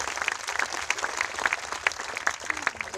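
A church congregation at a healing crusade claps together, with steady dense applause of many hands held at a moderate level throughout.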